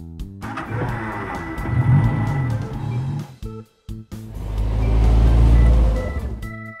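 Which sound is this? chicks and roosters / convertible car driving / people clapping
convertible car driving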